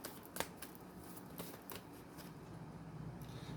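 Radha Krishna tarot deck cards being shuffled by hand, soft riffling and flicking with several sharp card snaps early on, close and quiet with no talking.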